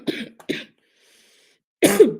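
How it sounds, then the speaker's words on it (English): Two quick harsh coughs close to the mic, a pause of near silence, then a longer rough cough with throat clearing. "I got the coughing fit done before the show"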